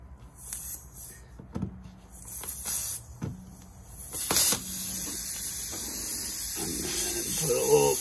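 Air hisses steadily out of a punctured tire during a DIY plug repair, a loud, close, continuous hiss that builds midway, with scattered clicks and handling knocks of tools over it.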